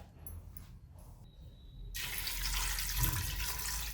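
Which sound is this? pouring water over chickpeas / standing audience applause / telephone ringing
pouring water over chickpeas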